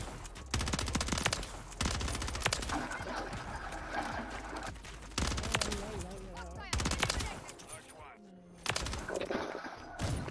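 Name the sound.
sniper rifle shot in Call of Duty video game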